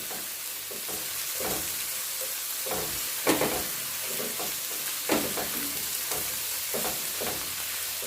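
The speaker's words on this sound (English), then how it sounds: "And we're going to be sauteing this pretty quickly." Onions and green onions (escallion) sautéing in a pan over medium to medium-high flame, a steady sizzle broken by scraping stirs, with a couple of louder clatters near the middle and toward the end.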